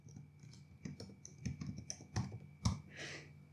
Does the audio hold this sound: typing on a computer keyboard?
yes